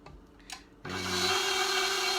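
A stand mixer with a paddle attachment creams butter and sugar, starting up abruptly after a few soft clinks and then running with a steady, close motor whir.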